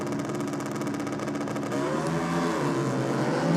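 Harley V-Rod and Kawasaki ZX12R drag bikes revving at the start line, a buzzing engine drone that swells and rises in pitch, heard somewhat distant and alone.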